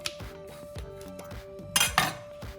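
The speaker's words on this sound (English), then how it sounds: "We're gonna start cutting our avocados. I just cut it in half." A knife halves an avocado on a board, giving a series of close, light clinks and taps with a sharper pair of clatters toward the end.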